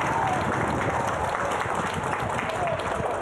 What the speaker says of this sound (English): A little bit of premature celebrations from the crowd here.